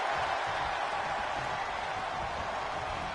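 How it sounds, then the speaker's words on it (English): Steady wash of crowd noise in a WWE wrestling video game arena, a dense continuous roar of cheering without distinct peaks, moderately loud and alone with no talk. "The sound of this crowd is deafening"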